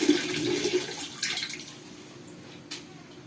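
Water runs from an opened tap in a washroom fed by an instant gas geyser, a broad hissing splash that is strongest early, then eases into a softer steady flow with a brief surge near the end.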